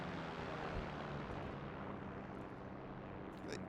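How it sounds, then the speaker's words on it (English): Broad low rumble of aircraft engines passing overhead during a Heroes & Generals battle, a steady dense drone filling the scene with faint distant booms and no voices. "I love, see, like the planes overhead like this"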